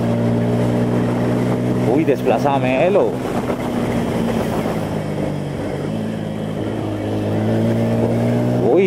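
A Bajaj Pulsar P150 motorcycle engine revs and pulls steadily while riding, a loud continuous drone with brief speech from the rider over it.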